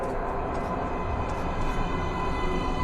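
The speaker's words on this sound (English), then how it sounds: "Please step away from the edge of the platform. Train coming in." Metro train pulling into a station platform in the Metro Redux video game, a steady broadband rumble and rail roar holding level throughout with faint higher screeching streaks above.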